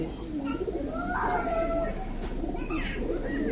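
Pigeons coo in a loft among birds kept for sale, with soft repeated calls close by under a steady background hum and some faint voices.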